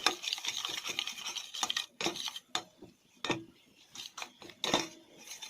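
A spoon scrapes and stirs a thickening raw mango jam mixture in a pan, producing irregular scraping and rubbing strokes separated by short pauses, close and fairly quiet, without talk.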